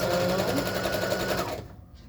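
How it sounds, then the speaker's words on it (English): A sewing machine stitches along a garment sleeve, a close, steady whirring run for about a second and a half that then stops abruptly. "We're sewing the other side."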